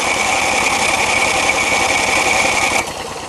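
A snowblower engine runs loud and steady with a rapid mechanical chatter, then drops off sharply near the end as it cuts back.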